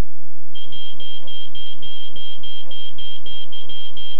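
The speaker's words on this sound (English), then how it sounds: "Single most important item when it comes to a fire in your home, the smoke detector." Smoke detector alarm sounding a rapid, steady series of high-pitched electronic beeps, evenly spaced and continuous over a low murmur of background noise.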